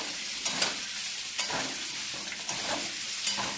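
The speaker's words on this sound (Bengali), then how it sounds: "আলুটা একটু ভেজে নিচ্ছি।" Cut potatoes frying in a home kitchen pan, a steady broadband sizzle with a few sharp stirring scrapes and clinks recurring about once a second, close and moderately loud with no voices.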